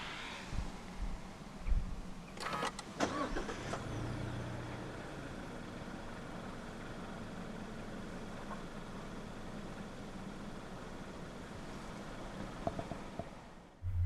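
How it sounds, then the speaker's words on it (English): The 2.0 SkyActiv-G engine of a 2015 Mazda 3 starts with a brief whir and catch at about two seconds, then settles into a quiet, steady idle. "Put your foot on the clutch and press the start button to the left of the steering wheel."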